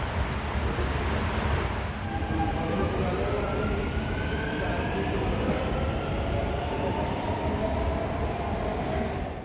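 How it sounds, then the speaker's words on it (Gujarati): A Dubai Metro train pulls into a station with a loud, steady rumble and rising whine of motors and wheels, filling the platform continuously and close by without talk. "હવે આ ટ્રેન આવી ગઈ છે."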